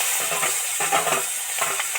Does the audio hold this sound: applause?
no